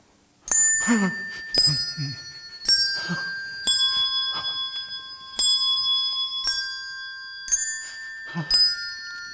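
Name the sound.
bell striking one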